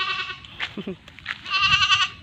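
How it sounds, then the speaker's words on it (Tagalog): Goat bleats, a wavering nasal call near the start and a longer, louder bleat toward the end, with brief rustling noises in between. "Loko-loko kang kambing ka."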